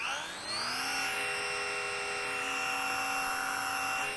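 A Volantex Sport Cub 500mm RC airplane motor whines up and holds a steady, high-pitched buzzing drone in flight, clear and fairly close with no talk.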